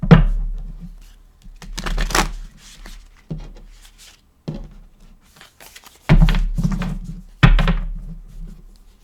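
Oracle cards are shuffled in bursts, with several sharp riffles and thumps separated by quiet gaps, close and fairly loud.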